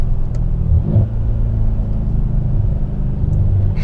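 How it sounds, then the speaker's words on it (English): Mercedes-Benz W212 E63 AMG engine fitted with black boost intakes, a steady loud low rumble from inside the moving car with a brief swell partway through, no voices. "you get a lot of turbo sound with these black boost intakes"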